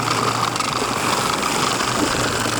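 An old, roughly 40-year-old lawn mower's small petrol engine runs steadily at close range, a loud, even buzzing drone with no breaks.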